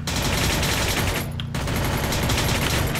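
Dense, loud automatic gunfire in the Free Fire shooter game, a continuous burst that briefly drops out mid-clip before the rapid shots resume, with no talking.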